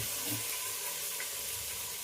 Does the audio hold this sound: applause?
no